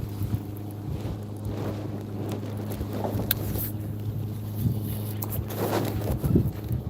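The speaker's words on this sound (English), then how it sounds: "It's literally a tailwind right now." Wind blowing across a lake while bass fishing from a boat in summer: a steady low rumble with gusty wind buffeting the microphone throughout, no voices.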